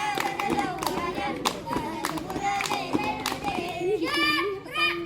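Schoolchildren at an Indonesian primary school scout session clapping along to a rhythmic chant, quick hand claps in time with a group of young voices chanting loudly.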